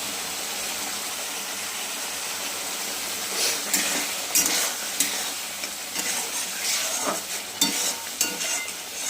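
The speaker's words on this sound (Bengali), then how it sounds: "আমি এইভাবে চিকেনটা সুন্দর করে কষাতে লাগবো।" Chicken stir-fried in a pan for chicken chana masala, with a loud continuous sizzle and repeated stirring scrapes that grow more frequent in the second half.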